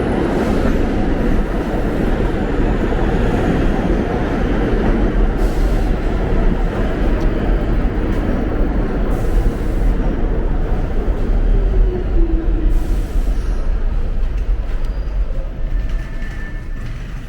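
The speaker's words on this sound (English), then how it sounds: "Another Q train." A New York City Q subway train roars steadily through a station, a loud sustained rumble with squealing and rattling, no voices.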